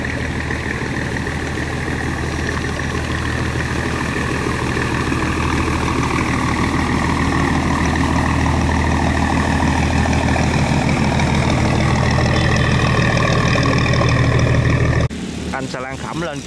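Heavy, steady drone of a loaded barge's engine travelling on a river, loud and continuous and close by, with a low rumble running throughout before it cuts off abruptly near the end.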